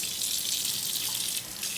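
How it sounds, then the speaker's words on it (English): Water running steadily from a tap for hand washing, a constant bright hiss of the stream hitting the sink, close and even, with no talking. "turn on the water"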